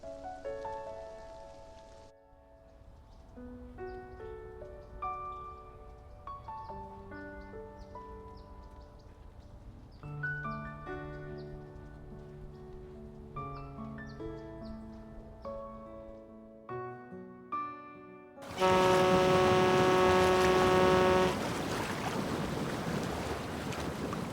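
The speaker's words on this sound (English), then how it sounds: "Let's wait for the rain to stop." Steady rain falls in the game Love and DeepSpace, a broad hiss rising suddenly loud near the end after a stretch of soft piano-like music with rain faint beneath.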